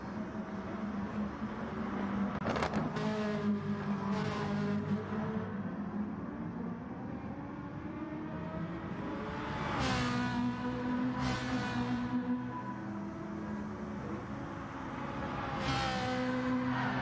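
Two Ferrari race cars driving one behind the other, engines droning and revving with shifting pitch, passing close at times with louder whooshing surges before easing back to a steady running hum.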